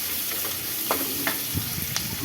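Chopped onions sauté in a hot pan with a steady broadband sizzle, broken by a few sharp scrapes and clicks of a spatula stirring them; close and moderately loud, no voices.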